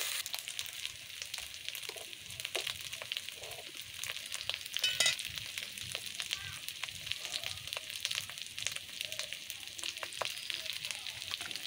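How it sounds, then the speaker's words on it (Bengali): Ginger, garlic, cumin and onion paste sautéing in a modest amount of oil for a bhetki fish head curry, giving a steady close-up sizzle and crackle with scattered pops and light stirring scrapes throughout. "সেই বাটা মশলাগুলো এখন কষাতে থাকবো।"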